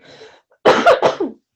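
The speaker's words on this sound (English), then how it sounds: "If I laugh too hard, I cough." A short burst of three or four sharp, close coughs from a person, preceded by a faint laugh-like sound and then silence.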